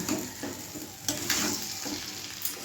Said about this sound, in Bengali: মশলাগুলোর সাথে একদম ভালো করে মিশিয়ে নেওয়া হচ্ছে